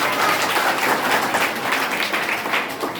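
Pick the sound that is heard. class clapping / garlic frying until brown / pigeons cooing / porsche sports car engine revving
class clapping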